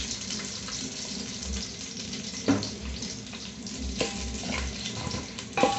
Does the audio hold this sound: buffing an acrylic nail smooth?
no